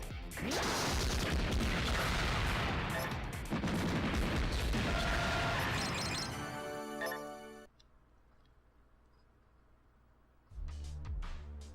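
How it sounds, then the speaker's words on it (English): Rapid machine-gun fire from rice cooker enemies in the video game Metal Saga rattles in a dense, loud burst for several seconds, then drops to quieter game tones before another brief burst at the end. "Why would you give a rice cooker a machine gun?"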